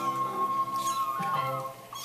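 A cat meows in a short, tonal call with wavering harmonics, fairly close and clear, over steady background noise with no talk.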